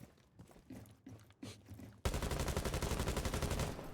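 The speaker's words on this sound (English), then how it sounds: "Fish firing some shots into arcade." Rapid gunfire in a competitive Rainbow Six Siege match: faint shuffling and a few soft impacts, then a sudden loud, sustained burst of automatic shots that runs to the end.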